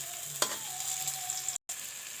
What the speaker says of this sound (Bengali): দেখুন বন্ধুরা কি সুন্দর করে ভাজা পুলিগুলো উল্টে পাল্টে ভাজে নিচ্ছে